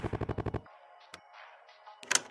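A rapid burst of cannon fire from Interceptor the dog in a Final Fantasy game: about eight evenly spaced loud blasts in quick succession, then quieter game sounds and a sharp impact near the end.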